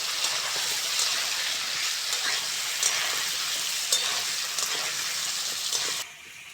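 Papaya and potato pieces frying in a pan for a light Bengali fish curry, a continuous loud hiss of hot oil sizzling close by, easing slightly at the very end.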